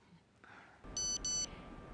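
A phone chimes a text message alert: two quick, bright electronic beep bursts in a row, loud and close over a faint steady hum in a quiet room.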